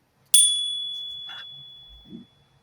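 A single bright bell ding rings out clearly and decays slowly into near silence as a subscription notification effect.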